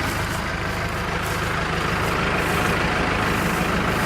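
A New Holland hay baler runs behind a Mahindra tractor, making a loud, steady mechanical drone with a fast rhythmic clatter and a low engine rumble underneath, close by and unbroken, no talk.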